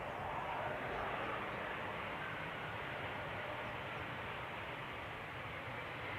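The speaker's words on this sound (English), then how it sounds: "Another KLM Embraer arriving from London City." A KLM Embraer regional jet arriving from London City at Schiphol's Polderbaan gives a steady, broad engine roar that holds evenly throughout, fairly close and constant.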